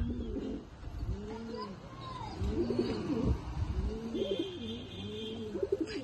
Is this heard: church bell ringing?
no